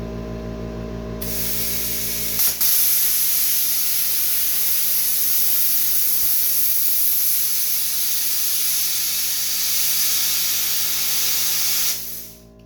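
A Warfox CUT50D plasma cutter slices half-inch metal with a loud, continuous roaring hiss over a steady electrical buzz for about eleven seconds before cutting off abruptly.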